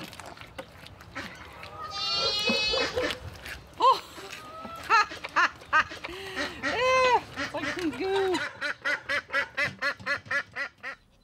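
Repeated nasal bleats from a billy goat on a farm in Detroit, several calls in a row growing more rapid and rhythmic toward the end, fairly close with some background noise.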